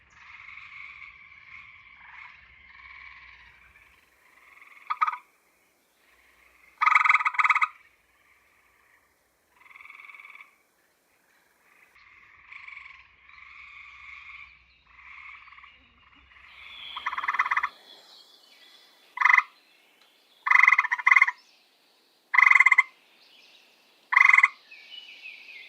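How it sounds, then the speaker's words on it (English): Tree frogs call to attract mates near a breeding pond, giving loud, close, pulsing croaks and trills in repeated bursts with short pauses between them. "Tree frogs are calling almost constantly now to attract mates."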